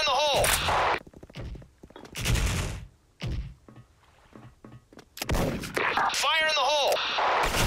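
Artillery fire in a video game booms in heavy, loud bursts with long rumbling tails, interspersed with shouting voices and whistling shell sounds.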